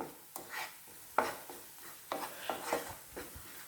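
Paneer butter masala mixture being stirred and sautéed with onions in a pan, a series of scraping, rubbing stirs with soft sizzle underneath, close and moderately loud, no voices.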